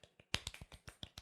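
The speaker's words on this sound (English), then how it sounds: "Golf clap." A few people give a soft golf clap, a sparse run of about a dozen light, separate claps at an irregular pace, quiet and close, with nothing else heard.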